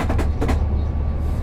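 A BR 147 electric locomotive runs at speed in the Train Sim World 6 railway simulator, giving a steady loud rumbling roll with a few faint rhythmic clacks of wheels on track.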